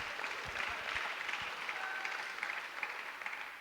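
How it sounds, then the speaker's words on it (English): Applause from an audience at a talk welcoming a speaker named Dan, a steady dense wash of many hands clapping that holds for several seconds at a moderate distance. "Or clap now."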